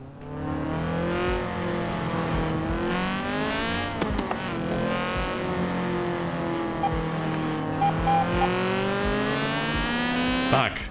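A car in Forza Horizon 4 pulls away at a night car meet, its engine droning loudly and steadily as the revs rise and fall through several gear changes, close and continuous, with a voice talking faintly underneath.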